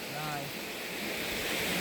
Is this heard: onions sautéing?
no